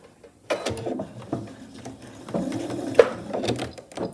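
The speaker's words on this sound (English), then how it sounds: "I'll sew the seam right down here. Using my regular presser foot" A sewing machine runs along a tote bag seam with a regular presser foot, starting after a short silence. It gives a steady, close mechanical whir with light rhythmic ticking that rises slightly toward the end, and no one talks over it.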